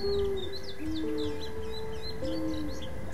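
Birds chirp and warble in quick overlapping calls against a faint steady hum in the background.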